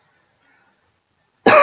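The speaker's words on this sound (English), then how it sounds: "I gotta get out this round of coughing." A single harsh cough bursts out abruptly at the end of near silence, close and loud, from a man in a fit of coughing.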